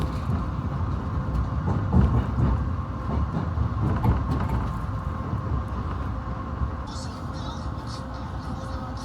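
A passenger train pulls out of Chicago over the Chicago River, its wheels rumbling steadily on the rails with faint clicks, heard from inside the car under murmuring voices.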